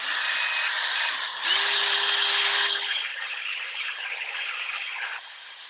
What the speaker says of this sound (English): I'm going to drill the back a little bit